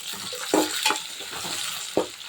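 Tomato and onions fry in a pan for an Andhra-style fish curry, a steady sizzle with a few louder stirring scrapes and splutters, close up with no speech.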